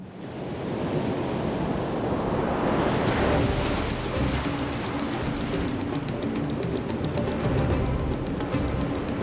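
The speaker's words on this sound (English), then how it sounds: "observe the waves hitting the shore and breaking on the cliffs with their tireless rhythm" Ocean waves surge onto the shore and break against cliffs in a steady, loud roar of crashing surf, with wind blowing throughout and no voices.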